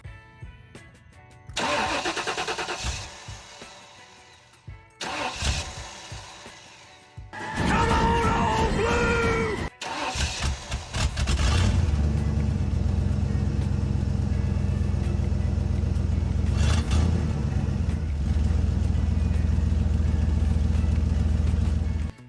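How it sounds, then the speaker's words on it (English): A 1994 Ford F-350 truck engine struggles, starting and stalling in short bursts before settling into a loud, rough, uneven run that carries on close by without any talk. "the truck was barely running at this point"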